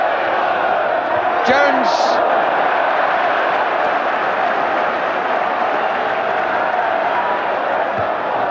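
A football crowd roars after a goal at a 1988 FA Cup tie between Wimbledon and Watford, a broad sustained swell of cheering that fills the whole stretch while a commentator speaks briefly over it.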